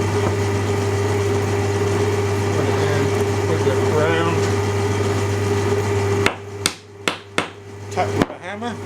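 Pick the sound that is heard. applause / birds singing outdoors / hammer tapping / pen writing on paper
hammer tapping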